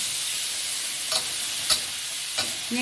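Pork stir-fries in a pan for rad na, a close, constant sizzle broken by a few sharp spatula scrapes.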